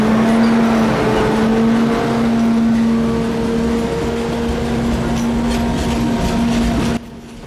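Loud, continuous rumble of a diesel locomotive hauling a train on the Šargan Eight museum railway in Serbia, with a steady engine drone and rolling rail noise throughout.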